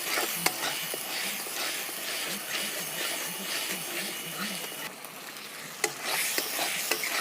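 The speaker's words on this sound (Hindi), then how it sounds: "तो फ्रेंड हम मसाले को अच्छे तरह से फ्राई कर लेते हैं। इस तरह से हम भूनते जाएंगे।" Spices fry in oil in a pan while being stirred, making a continuous close sizzle with repeated scraping strokes and a few sharp clicks of the spoon against the pan.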